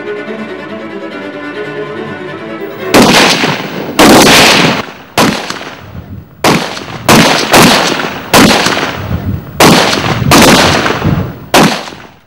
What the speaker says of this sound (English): 60 seconds you have to fire all those 10 rounds